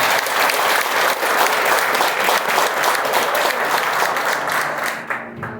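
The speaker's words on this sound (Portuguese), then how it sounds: "Palmas bem alegres para Deus." A church congregation claps joyfully for God at a worker consecration service, a dense, loud wash of steady applause that carries on for several seconds, then thins and fades near the end.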